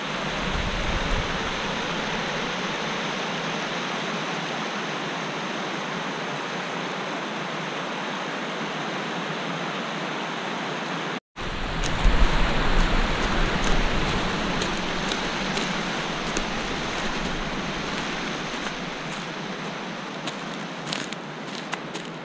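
Steady rushing mountain stream water flowing close by on a hike up Vesper Peak, a continuous broadband hiss with no talk, briefly cutting out midway before resuming.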